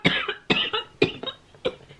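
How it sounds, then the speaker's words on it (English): A person coughs in four separate harsh bursts, each a short double or triple hack, close and fairly loud with brief gaps between them. "It really hurts to cough."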